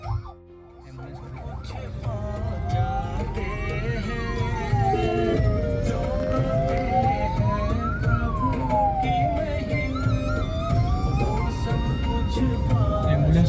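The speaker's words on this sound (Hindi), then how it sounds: "पीछे एम्बुलेंस आ रहे हैं, उसको साइड दे दिया जाए।" A loud wailing ambulance siren sweeps up and down repeatedly over heavy traffic rumble, close and continuous, on the road from Bangalore to Lepakshi.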